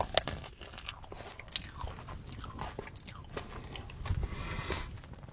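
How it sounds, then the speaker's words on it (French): Crunchy vanilla pastry being bitten and chewed close up, a quiet series of sharp crisp crunches and softer chewing sounds with no talk. "ça croque bien sous la dent."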